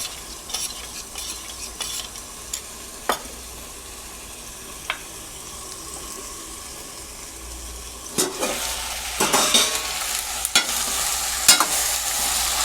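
Tomato, onion and capsicum fry in a pan for restaurant-style chilli chicken, with steady close sizzling and occasional clinks and scrapes of a stirring spoon, building louder toward the end.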